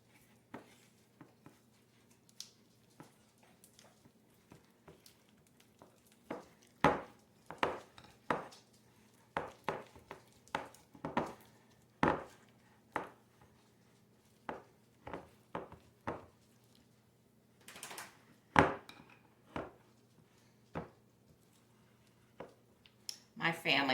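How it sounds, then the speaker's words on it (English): Chicken being mixed with Old Bay seasoning using a spatula, soft scraping and squishing taps against a bowl in an irregular rhythm, close but fairly quiet, with a faint steady hum beneath. "I'm going to take that with a spatula and mix it"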